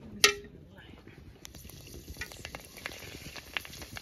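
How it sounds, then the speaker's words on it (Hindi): Golgappa puris frying in hot ghee, a soft bubbling sizzle with scattered crackles after a sharp clink at the start, continuing steadily throughout. "इसमें हम फ्राई कर लेंगे ये पूरी"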